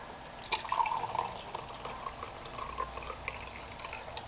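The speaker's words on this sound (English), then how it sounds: "let's get a glass and pour it off." Sangria poured from a pitcher into a glass, a soft, steady trickle of liquid filling the glass, fairly quiet and close, with small drips and splashes and no voices.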